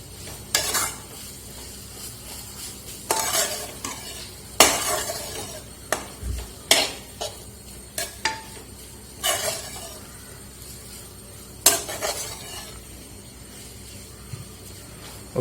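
Chapathi pieces tossed with onion and spices in a pan for chilli chapathi give off repeated scraping and clinking stirs, each a sharp burst over a soft sizzle, spaced irregularly and close by.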